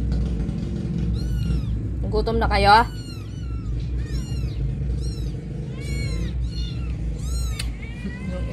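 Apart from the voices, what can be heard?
kittens meowing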